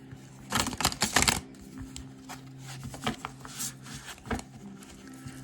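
Tarot cards shuffled by hand in a quiet room, a dense burst of crisp riffling snaps near the start followed by softer, scattered taps and card slides, close and fairly faint.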